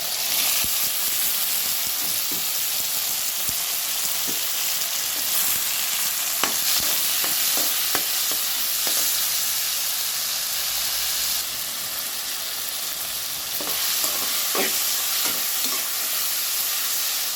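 Ingredients sizzle and fry steadily in a hot pan, with occasional scraping and stirring clicks and a constant hiss.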